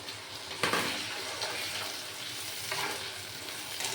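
Potatoes fry with a poppy seed and green chilli paste in a pan, giving a steady, close broadband sizzle throughout, with brief louder bursts as the mixture is stirred.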